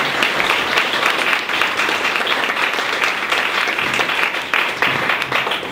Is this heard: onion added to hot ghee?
no